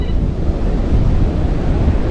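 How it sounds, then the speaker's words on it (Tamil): Strong wind blows at the seashore, a loud, steady low rumble of buffeting gusts across the microphone mixed with surf, continuous and without speech. "பயங்கரமா காத்து அடிக்குது"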